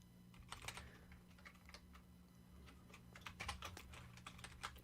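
Faint, rapid keystrokes on a computer keyboard clatter in irregular bursts, quiet and close, with no talking.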